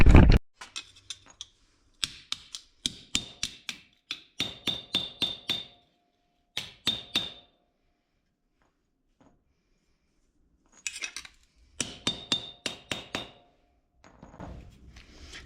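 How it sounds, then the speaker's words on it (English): Hammer blows on the rusty steel floor pan of a Jeep J10 crew cab, ringing metallic strikes in quick bursts of several hits separated by pauses, close and fairly loud with no talk. "just start beating something with a hammer"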